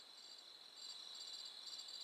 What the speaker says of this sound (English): That's obnoxious with the crickets.